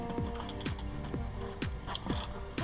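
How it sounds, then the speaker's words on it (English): A ratchet removes the bolts holding a rear bumper, making a short burst of rhythmic clicking and gear whirring, close and fairly faint. "Remove all 4 bolts."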